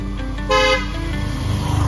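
A passing vehicle sounds one short, loud horn toot beside a roadside temple in a Konkan sacred grove, over steady road and engine noise.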